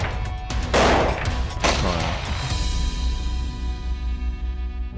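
An AN-94 assault rifle fires a couple of sharp two-round bursts, the paired shots nearly merging into one loud report, each followed by a long echoing ring and reverberant tail fading away.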